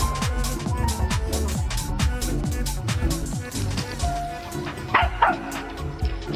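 Excited dog yipping and barking in rapid bursts at a troop of monkeys, loud and close, with occasional whimpers and sharp monkey-like shrieks in the background.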